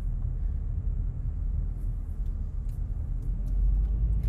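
A steady low rumble of a car driving on a road, with constant engine and tire noise close by, swelling slightly toward the end.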